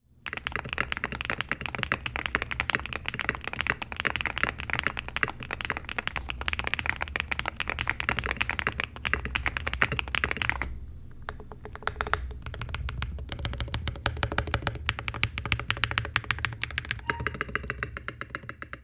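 A Morkblade MK60HE mechanical keyboard with Gateron switches and a gasket mount is typed on in a fast, steady stream of close, crisp keystrokes. There is a short lull, then quicker bursts of typing, with no talking.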